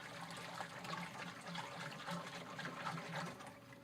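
Deer jerky marinade being stirred in a container, a continuous wet sloshing and trickling of liquid heard close up for a few seconds without speech.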